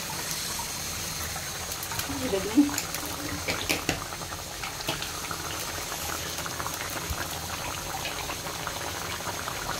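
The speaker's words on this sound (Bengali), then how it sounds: "এখানে আরেক মাছ রান্না হচ্ছে, এটা হচ্ছে পোয়া মাছ" A pot of poa fish cooks at a boil, a continuous close bubbling and gurgling with a faint voice briefly in the background.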